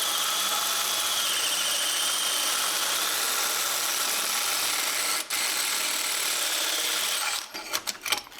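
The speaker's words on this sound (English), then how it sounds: "So we're just gonna hole saw out." Hole saw cutting through 3-inch pipe for a drift car project, a steady loud grinding whine that runs unbroken for about seven seconds, then stops with a few clanks.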